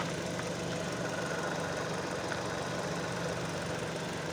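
A freshly overhauled Hyundai i40 engine runs steadily at idle, a constant, even drone with no distinct knocks, heard from close by without talk.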